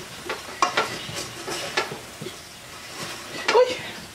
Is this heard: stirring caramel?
yes